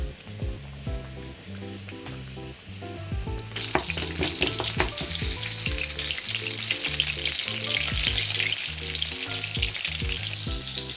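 Chicken pieces deep-frying in hot oil for KFC-style crispy fried chicken, a steady loud sizzle that swells and brightens partway through, with rhythmic stirring or tossing clatter underneath and no talking.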